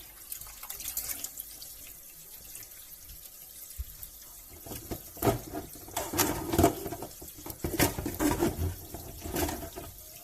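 Fish being washed under a running tap at a sink, a steady wash of water with louder splashing bursts in the second half, no voices.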